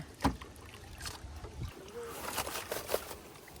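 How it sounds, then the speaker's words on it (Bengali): A small rowboat moves across a pond, with light knocks of wood and soft water sloshing and trickling in short bursts, while voices speak nearby. "আমি আসছি নৌকা নিয়ে"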